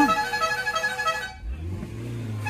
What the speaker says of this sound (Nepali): अनि ड्राइभरले चाहिँ, भाइले चाहिँ हर्न लाउँदै जानु पर्दो रहेछ